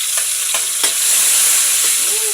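Oil sizzles and spits loudly in a pan while pork caldereta cooks, a bright continuous hiss broken by a few sharp pops, close up and without talk.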